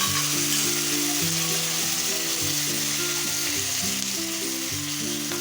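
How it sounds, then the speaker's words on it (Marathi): Small tomato sautéing in a pan with roasted peanuts for masala poha, a continuous close sizzle and crackle of frying with occasional stirring, steady throughout. "आता आपण छान असं हे परतून घेऊया"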